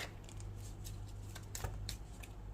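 Tarot cards are shuffled in a quiet room, a run of soft, uneven papery flicks and clicks over a faint low hum.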